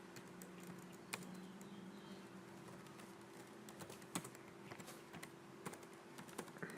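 Typing on a computer keyboard, a quiet, irregular run of soft clicks and key taps at close range, with no voices.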